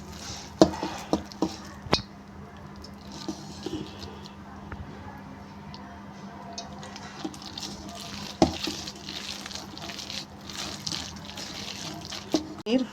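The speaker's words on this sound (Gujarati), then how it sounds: "થોડુંક આપણે પાણી લઈશું" Water runs from a kitchen tap into a sink while corn pakoda batter is prepared, a steady close splashing stream with occasional clinks of pots and dishes, faint background sounds alongside.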